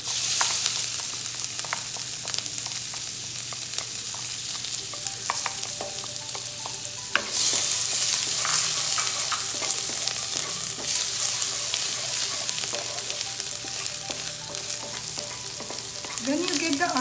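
Garlic sizzling in hot oil in a pan for a vegetable stir fry, a steady close hiss that swells louder partway through, with occasional light utensil scrapes and no speech.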